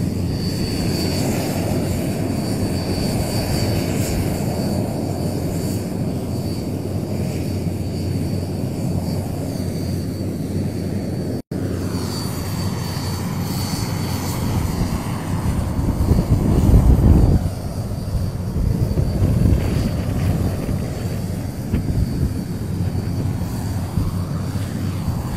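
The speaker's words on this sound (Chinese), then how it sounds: "可以看到飞机的发动机已经发动了" Jet engines of a fixed-wing aircraft carrying the Chang'e 5 return capsule run steadily before takeoff, a loud continuous roar with wind buffeting that swells slightly toward the end.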